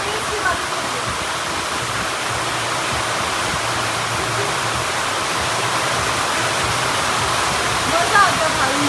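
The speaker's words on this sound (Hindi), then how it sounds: "कितनी तेज की बारिश हो रही है" Heavy rain pours steadily, a dense continuous hiss filling the whole stretch without letup.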